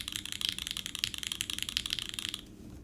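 Typing on a custom Kohaku keyboard build fitted with Popu switches and JTK keycaps, a fast steady run of crisp, poppy keystrokes up close, stopping abruptly near the end.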